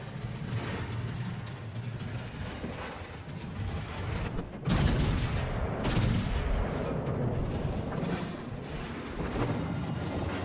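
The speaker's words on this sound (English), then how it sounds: "Enemy destroyer blown up." A destroyer blows up in a World of Warships Legends naval battle, heavy booming blasts and rumbling gunfire rolling on continuously, loud and dense throughout, with a sharper surge of explosions midway.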